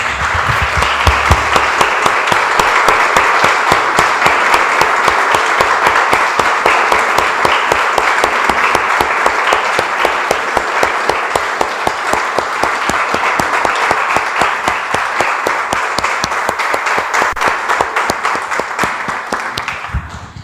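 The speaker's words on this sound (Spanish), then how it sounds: "Damos un aplauso, hermanos, al Señor." A church congregation claps together in sustained, dense applause that holds steady and loud for about twenty seconds before tapering at the very end, with no speech over it.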